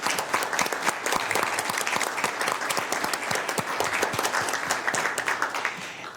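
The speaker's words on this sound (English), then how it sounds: "if we could give her one more hand of applause" Audience applause at a Sacramento Metropolitan Air District board meeting, steady sustained clapping from a roomful of people that holds at an even level for several seconds before easing slightly at the end.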